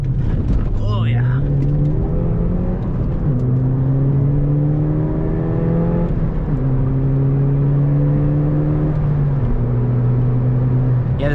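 A small turbocharged car accelerates hard through several gears, its engine note climbing steadily then dropping at each shift, loud and close throughout.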